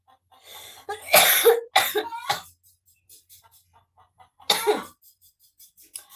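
A few loud, harsh coughs close by in separate bursts, with quiet pauses between them, during rainy, flooded weather.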